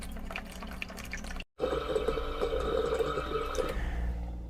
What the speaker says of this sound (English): this is flushing that filter right now